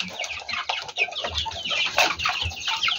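A hill chicken clucks repeatedly and close by, giving a busy run of sharp, choppy calls with no voices over them.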